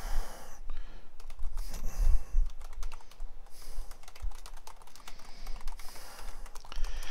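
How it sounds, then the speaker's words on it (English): Rapid typing on a computer keyboard, close and fairly loud, with dense irregular bursts of key clicks and short pauses, plus a soft breath; no talking. "I'm actively still typing with them right now."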